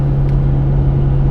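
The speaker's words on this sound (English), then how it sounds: "it's got that push rod, slow revving V8" A 2002 C5 Corvette Z06 with a pushrod V8 on a cold, wet fall day holds a loud, steady engine drone close by, with a strong low hum and no voices.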